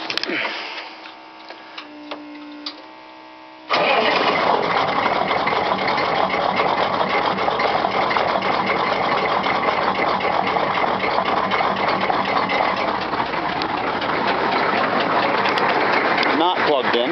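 Car engine cold start: a quiet hum and faint clicks, then the engine abruptly catches and settles into a loud steady idle that runs on, with a voice speaking over it.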